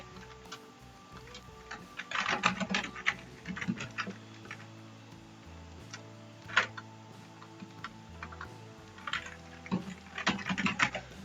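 Computer keyboard clicks in irregular bursts of rapid keystrokes, close and fairly quiet, with short pauses between runs.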